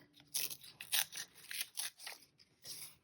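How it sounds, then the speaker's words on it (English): Paper being torn by hand for a junk journal collage, a series of short crisp ripping bursts in uneven rhythm, close and fairly quiet, with no talking. "but now I am ripping."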